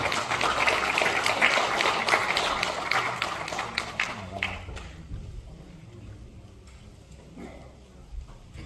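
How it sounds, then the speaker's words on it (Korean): Audience applause welcoming a chairman to the front at a Korean ceremony, a dense burst of clapping for the first four seconds that fades out into quieter room noise. "박수로 환영해 주시기 바랍니다."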